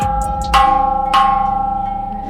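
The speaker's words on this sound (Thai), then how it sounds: "เคาะระฆังค่ะสาธุ" A temple bell at Wat Koh Samet rings out when struck twice, each strike bright and metallic with a long, sustained resonant hum, close and loud.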